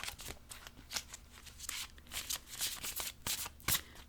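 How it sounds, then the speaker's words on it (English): A very large deck of cards being shuffled repeatedly, with crisp riffling bursts and soft slaps in an uneven rhythm, close by and fairly quiet. "It's so big it's barely fitting in my hands right now, but we're here to shuffle it up."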